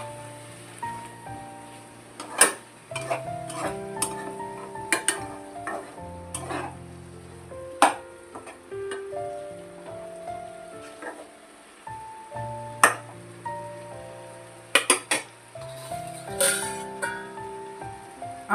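A spoon stirs spice paste into Bengali fish curry in a metal pan, making repeated scraping and clinking strokes with irregular sharp knocks over a soft sizzle, close and fairly loud.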